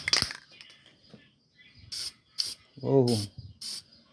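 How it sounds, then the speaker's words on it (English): A CRC aerosol spray can sprays bare metal on a car wheel hub in short hissing bursts, about five of them, with a ratcheting rattle of the can nearby and a brief exclamation from a voice. "Spray this side real fast"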